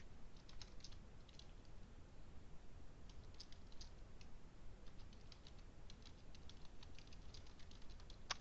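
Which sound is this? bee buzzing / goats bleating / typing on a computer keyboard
typing on a computer keyboard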